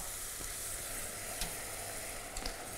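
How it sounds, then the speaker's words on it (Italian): White wine sizzles and evaporates in a risotto pan, a steady bright hiss with faint clicks of stirring, fairly quiet and with no voices. "Guardate, il vino evapora"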